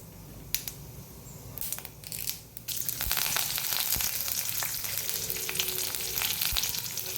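Curry leaves hit hot oil for a coastal-style radish pulimunchi, setting off a loud, crackling sizzle that bursts in partway through and keeps spattering steadily to the end.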